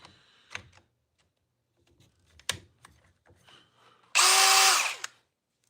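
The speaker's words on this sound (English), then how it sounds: "It can be your everyday drill." A Milwaukee Gen 2 Surge drill runs in one loud, steady whir of about half a second near the end, following scattered clicks and handling knocks.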